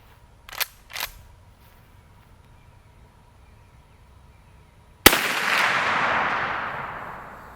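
Winchester 1892 lever-action rifle firing a near-maximum W296 powder magnum load: two faint clicks, then a single loud, close gunshot with a long decaying roar.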